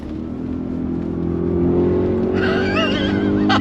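A 2022 Audi RS Q8 performance SUV brakes hard with a loud engine drone, and a sharp, wavering tire squeal rises over it near the end.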